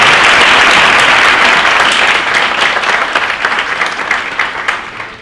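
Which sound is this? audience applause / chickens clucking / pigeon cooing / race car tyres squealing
audience applause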